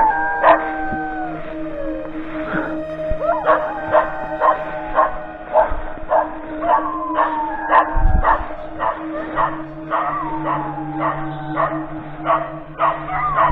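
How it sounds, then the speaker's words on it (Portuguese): Several dogs bark, yip and howl at night outdoors, repeated irregular barks over a steady background hum, fairly close and loud, with a low thud near the middle. "Os cachorros vão estranhar sim, tá pessoal? Porque, cara, são lanternas aqui. Então, acredito que vai ficar latindo o tempo todo."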